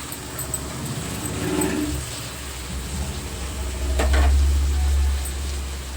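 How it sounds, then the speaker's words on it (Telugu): Flat beans frying in a pan, a steady broadband sizzle with soft stirring scrapes, swelling louder near the end, with no voices. "ఈ చిక్కుడుగాయలు ఇలా వేగుతున్నప్పుడే"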